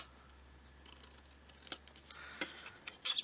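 Scissors snip through paper card for a Ferrero Rocher Easter box in quick, crisp cuts that build into a denser run of snips near the end, close and quiet with no voices.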